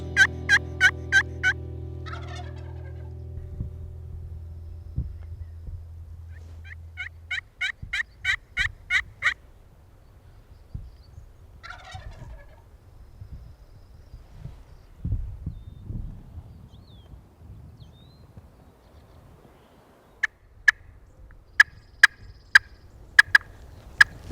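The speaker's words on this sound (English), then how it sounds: "Now, gobbles can be very deceptive." Wild turkey gobbling during a California spring hunt, several loud rattling gobbles in bursts near the start and middle, then a later series of sharp knocking sounds, with quiet outdoor ambience between calls.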